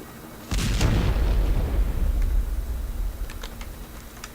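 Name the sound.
gunfire in a video game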